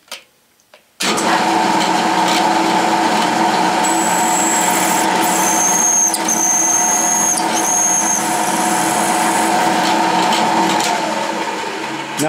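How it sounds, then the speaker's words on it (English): A drill spins up sharply and whines loudly and steadily at close range while counterboring a quarter-inch-deep hole for a cap screw in a metal indicator holder. It runs without a break until the end. "And now to counterbore that hole."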